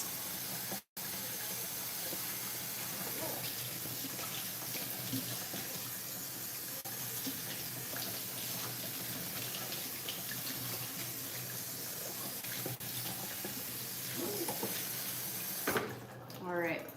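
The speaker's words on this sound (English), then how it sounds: "So, rinsed off my quinoa." Tap water runs steadily over quinoa being rinsed in a kitchen sink, a continuous close hiss and splash that fills the whole stretch, with a short break near the start and a brief clatter toward the end.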